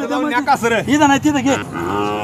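A nine-month-old Khillar calf at a bull market in Sangola moos loudly and close, a couple of drawn-out calls following one another with no talk over them.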